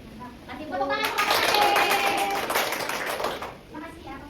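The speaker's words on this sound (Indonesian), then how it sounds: "Kasih tepuk tangan kelompok" Schoolchildren in a classroom clap for group 1, a burst of quick rhythmic applause swelling then fading, with talk around it.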